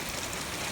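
Steady overnight rain falling on a warm night, a dense continuous hiss with soft patter, even in level and filling the short stretch without voices.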